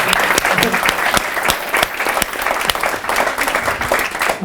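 Audience applause at a Palestine book awards event, steady and fairly loud throughout with dense clapping and a few cheers mixed in.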